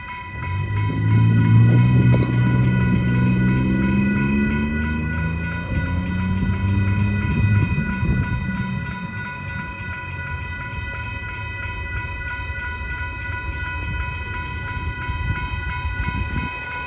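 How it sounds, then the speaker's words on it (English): A westbound Union Pacific freight train rolls past at a rail crossing, with a loud low rumble near the start, steady wheel noise throughout and a sustained crossing bell tone ringing overhead. "we got our next westbound Union Pacific train"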